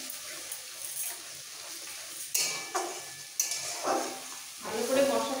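Spices sautéing with a little water in a pan for Saraswati Puja khichuri, with soft sizzling and a few sharp spoon scrapes against the pan, moderately close and fairly quiet.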